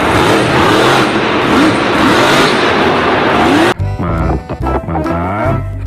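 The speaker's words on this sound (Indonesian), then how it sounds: "yang ini ada mobil monster berukuran besar teman-teman" A large toy monster truck's motor revs hard and loud in a continuous roar, then drops to choppier, broken bursts near the end, close to the microphone with no talking.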